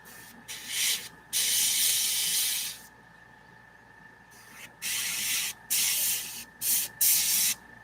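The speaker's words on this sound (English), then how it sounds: "When the airbrush is doing its job well, it's pretty good." An airbrush sprays paint onto a miniature in a series of short bursts, each a steady close hiss lasting one to two seconds and separated by brief silent gaps.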